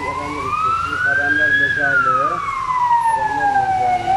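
Ambulance sirens wail near a hospital in Sakarya's Erenler district, one loud close siren sweeping slowly up and down in a long wail while a second siren yelps faster beneath it, over a steady traffic hum.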